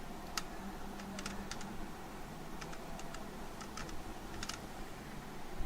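Keys clicking on a computer keyboard in short, quiet bursts of taps over a low background hum, close and fairly faint.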